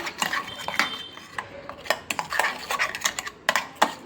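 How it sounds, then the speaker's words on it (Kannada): Green egg masala filling being mixed in a kitchen bowl, with a steady run of sharp spoon clinks and scrapes against the dish, close and fairly clear, with no talking. "ಇದನ್ನೆಲ್ಲ ಚೆನ್ನಾಗಿ ಈ ಥರ ಮಿಕ್ಸ್ ಮಾಡ್ಕೊಬಿಡೋಣ"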